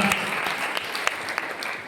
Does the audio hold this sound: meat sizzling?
no